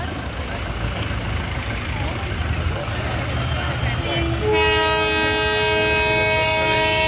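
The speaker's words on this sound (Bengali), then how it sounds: "ট্রেন হর্ন মারছে" Outdoor rumble and ambient noise, then the Darjeeling toy train's horn blares loudly in a steady, sustained tone for the last few seconds.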